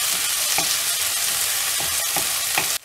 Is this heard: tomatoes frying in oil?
yes